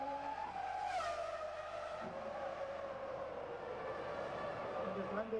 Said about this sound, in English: Look at the car working at high speeds over these curves.